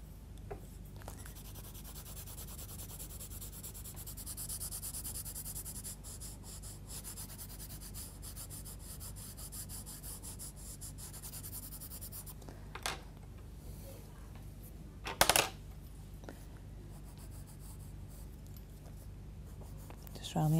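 Derwent coloured pencil scratching steadily across drawing paper in small detailed strokes, a soft continuous rasp held close to the microphone, with a couple of brief louder knocks near the end.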